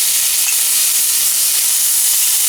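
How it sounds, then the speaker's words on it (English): Calamari frying in a pan, a steady bright sizzle that stays even and close throughout with no talking over it. "So we're gonna cook the calamari also."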